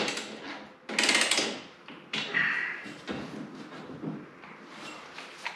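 A ratchet tightens the bolts on a Rival rear bumper, heard as close, irregular metallic clicks and clunks with a few louder knocks, fairly quiet with no talking.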